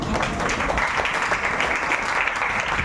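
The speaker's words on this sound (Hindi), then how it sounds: "नहीं वाले लोगों को जोरदार ताली बजाओ" Church congregation clapping together in sustained, dense applause that holds steady and loud throughout, with a few voices faintly mixed in.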